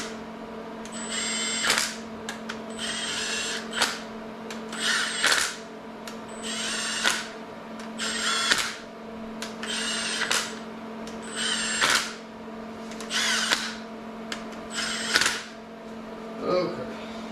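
A power driver runs down bolts on a 383 engine build, with about eight short, evenly spaced whirring bursts over a steady low hum and spoken commentary.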